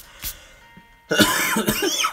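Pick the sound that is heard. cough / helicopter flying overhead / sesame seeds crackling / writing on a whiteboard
cough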